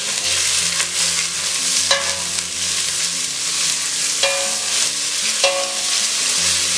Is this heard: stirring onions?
yes